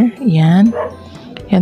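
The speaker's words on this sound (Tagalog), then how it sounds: "Pasensya na po sa aso, maingay lang po talaga dito." A dog barks and whimpers in short yips close by in a Filipino home, heard alongside a person speaking.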